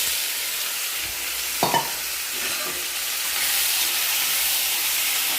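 Sautéing lentils with small onions, tomato and curry leaves in a pan over low heat makes a soft continuous hiss, with a couple of brief spoon scrapes and knocks near the start, no speech.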